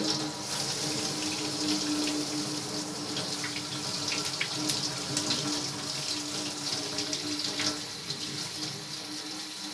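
A continuous rush of water pours from the tap of a kitchen water heater, steady and close, with faint splashing flickers over a constant hiss and no talk.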